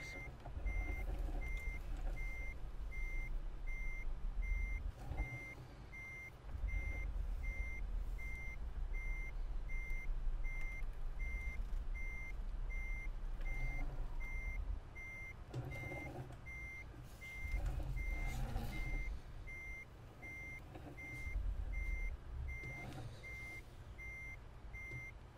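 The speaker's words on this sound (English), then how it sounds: "Still got the reversing beeper, else you wouldn't be able to hear anything if you're a pedestrian" A Tesla Semi truck in American Truck Simulator reverses, its backup beeper repeating in a steady, evenly spaced pattern over a low engine and road rumble for the whole stretch.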